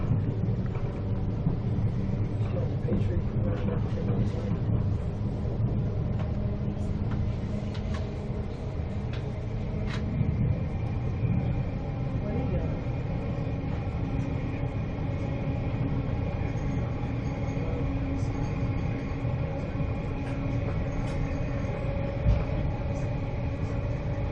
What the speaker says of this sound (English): There's a train coming through heading north.